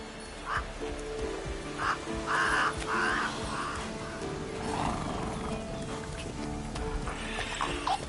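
Roach the horse in The Witcher 3 gives a few whinnies and snorts over an outdoor game soundscape, with cawing birds and some hoof clip-clops, the calls moderately loud and spread across the scene.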